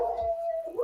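A single dog howls in one sustained, steady wavering note that bends upward at the end, close and clear with no talking.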